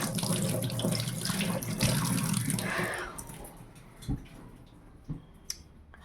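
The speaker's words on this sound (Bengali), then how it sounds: "একটু হাতটা ধুয়ে নিই" Hands being washed under a running kitchen tap, a steady rush of water splashing into a sink for about three seconds, then the flow stops, leaving a few drips and small wet splashes.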